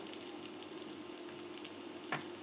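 Onion and green chilli frying in soybean oil for a bitter gourd and potato stir-fry, a faint but steady hissing sizzle running throughout, with a single short clack of a utensil near the end.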